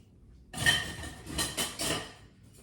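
A whisk stirring milk in a metal pot set in cool water, giving a short run of clinking, scraping strokes against the pot over about a second and a half.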